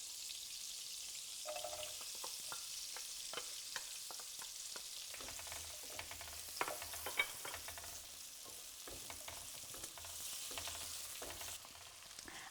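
Onions and garlic fry in olive oil in a pan, giving a steady crackling sizzle throughout with scattered sharp pops and stirring scrapes, no voices present.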